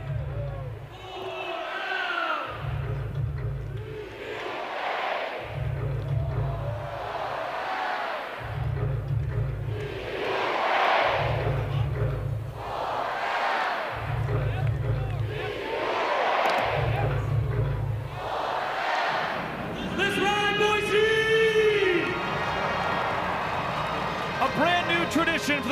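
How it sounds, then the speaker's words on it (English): Stadium crowd at a Banana Ball game chanting in regular rhythmic bursts with heavy beats underneath, then building into louder cheering and yelling, with a voice talking over the crowd. "who has the whole crowd chanting"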